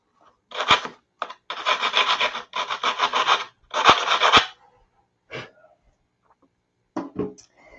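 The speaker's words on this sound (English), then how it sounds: "I'll give it a little sand job." Sandpaper rubs on a P-47 model airplane part in several close, steady bursts of back-and-forth scrubbing, separated by brief pauses and a few light taps.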